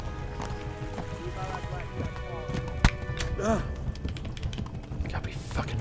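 Horse galloping in the video game Kingdom Come: Deliverance, quick repeated hoof clops under busy game noise, sharp hits and a voice talking over it.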